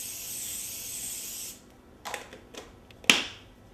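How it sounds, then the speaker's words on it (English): A steady hiss of cooking oil spray into a non-stick muffin tin for about a second and a half, then a few short spritzes and a sharp click close by. "A spray oil is best, it's easiest. And just go in there and spray"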